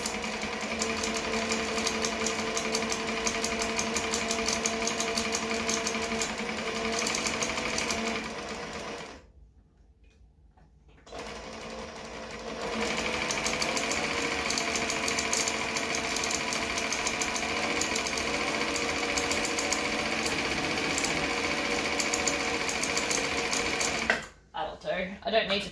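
A domestic sewing machine winds thread onto a bobbin with a steady close mechanical whir, then stops for a few seconds and starts again before cutting off near the end.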